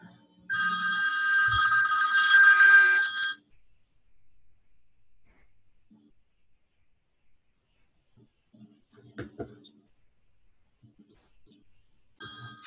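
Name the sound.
phone ringing with verification call during AWS signup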